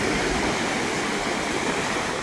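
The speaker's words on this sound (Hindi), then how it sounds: "फिर फ्री में पैरों की मसाज हो जा रही है जो पानी टकरा रहा है" Waves of the Arabian Sea washing over feet at the shoreline, a steady loud wash of rushing water that stays constant and close throughout, with no voices.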